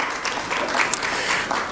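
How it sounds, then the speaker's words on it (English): Audience applause at a summit event on African digital infrastructure, a moderate wash of many hands clapping steadily throughout a short burst. "A round of applause for them,"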